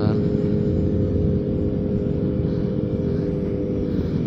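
Big motorcycle exhaust roars through a motorcycle helmet with the visor closed on a Sunday morning group ride in Jakarta, a loud, steady, low rumble that never lets up.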